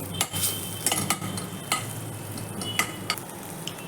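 Garlic frying in a pan for vegetable soup, a steady soft sizzle with repeated scraping stir strokes and light utensil clinks against the pan, close and alone.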